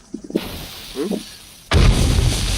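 A pipe bomb detonates in a video game: faint shuffling and small thuds give way to a sudden loud blast that keeps roaring at full strength until the end.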